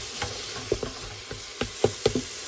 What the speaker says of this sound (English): While that is continuing to brown and the onions are softening